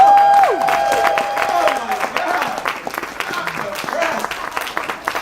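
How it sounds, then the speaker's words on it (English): Comedy show audience breaking into applause with scattered whoops and cheers, a loud burst that thins out, with a voice talking over it and a sliding vocal cry near the start. "Give him a round of applause."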